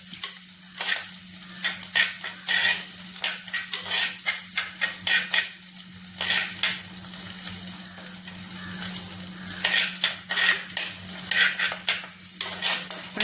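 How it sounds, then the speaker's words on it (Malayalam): Curry leaves and ginger sautéing in a pan for a coconut-based curry, with a steady close sizzle and repeated scraping stirs of a spoon against the pan, no talking. "അതും കൂടെ ചേർത്തൊന്ന് വഴറ്റിയെടുക്കാം"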